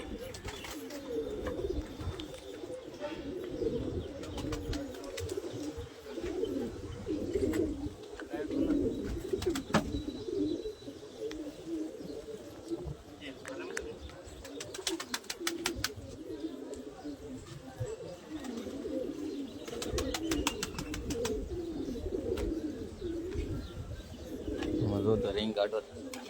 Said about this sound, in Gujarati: અહીંયા કબૂતર ખોલી નાખ્યા